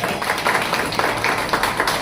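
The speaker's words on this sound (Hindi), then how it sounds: "केतन भाई के लिए जोरदार तालियां" Dense, steady clapping from an audience at a music club gathering, a loud round of applause for Ketan Bhai that fills the whole stretch without a break.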